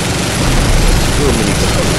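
Gunfire in Binary Domain, a dense, loud, continuous barrage of rapid shots and booming impacts filling the whole stretch, with a voice speaking over it.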